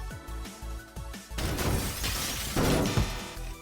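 In the voxel destruction game Teardown, glass shatters and crashes apart after a few sharp impact knocks, giving a burst of bright breaking and tinkling debris that runs for a couple of seconds.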